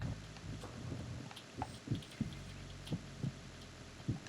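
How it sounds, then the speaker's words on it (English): An in-game heartbeat effect from the stealth game Metal Gear Solid 2 thumps faintly in a regular rhythm of soft, low beats over a quiet background hum. "I look for someone with a special heartbeat."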